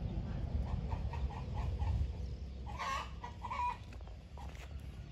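Chickens cluck softly in a short rhythmic series over a low rumbling background, with a few more clucks and squawks following, moderately distant.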